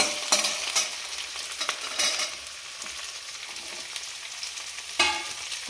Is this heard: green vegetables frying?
yes